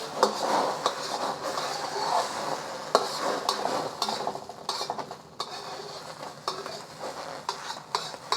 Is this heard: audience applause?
no